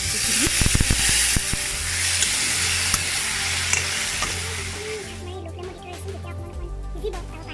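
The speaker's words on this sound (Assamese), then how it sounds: "লগতে পিঁয়াজ আৰু তেল গৰম হৈ গৈছে, ইয়াত পিঁয়াজ বৰ ফুটলি" Onion frying in hot oil sizzles steadily and close by, a broad hiss with scattered pops and crackles, plus a few sharp clicks near the start; the sizzle thins toward the end.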